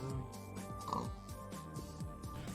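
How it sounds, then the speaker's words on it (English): A Minecraft pig oinks in short, soft grunts over steady, faint in-game background tones, a quiet, even level throughout with no voices. "It's a pig, darn it."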